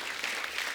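Studio audience at a comedy talk show applauding, a dense, steady burst of clapping from the crowd, loud and close, with no talk over it.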